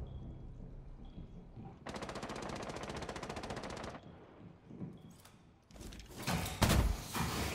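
Rapid machine gun fire in a video game, a dense burst of about two seconds, followed by scattered thumps and a louder crash of gunfire at the end.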